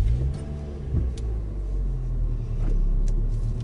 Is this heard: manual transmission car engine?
yes